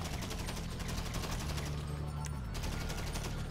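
Rapid automatic gunfire rattles in the online crime game GTA Online as a player shoots at a helicopter, a steady stream of quick, fairly quiet shots running through the whole stretch, with voices talking over it.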